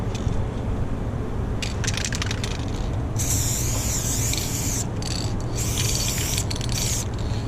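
Double A chrome spray paint can hissing as a tag is sprayed, with several long bursts separated by short gaps and faint rattly handling noise throughout, close and loud.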